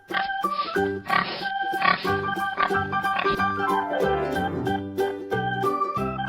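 A cartoonish pig oinks and grunts repeatedly over a bouncy, playful melody in a farm animals matching game for kids, each grunt short and loud against the music.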